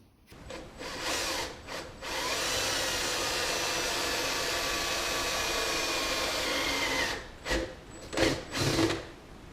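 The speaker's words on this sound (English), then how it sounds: "let's get this drilled" A power drill bores a hole through the aluminum case of a 27-inch iMac, a loud sustained whine running several seconds after brief start-up bursts, ending in short stuttering pulses as the bit is eased in and out.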